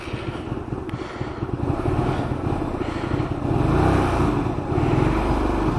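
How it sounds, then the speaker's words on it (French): A Hyosung Aquila 125 motorcycle turns over from a cold start without the choke, its engine sputtering into an uneven, rumbling idle that grows slightly stronger over several seconds, close by with no talk. "Alors là, démarrage à froid sans starter."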